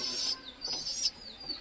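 Pigeons calling inside a loft, a few short high chirping calls repeating close by in a quiet space.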